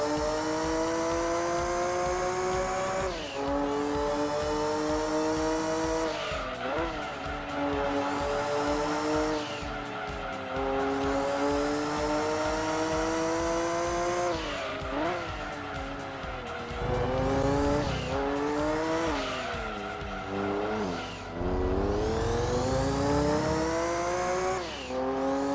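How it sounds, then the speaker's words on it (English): Racing car engine in Gran Turismo 2 during a Grand Valley 300km endurance race, a steady high revving whine rising and dropping with gear shifts, with occasional tyre squeal, continuous and close. "Fall asleep to the sound of a running engine."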